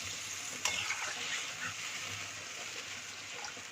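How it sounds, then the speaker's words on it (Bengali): Hilsa fish curry broth bubbling and simmering in a pan, a steady close sizzling hiss with faint clinks, no voices. "ঝোল ফুটে এসেছে"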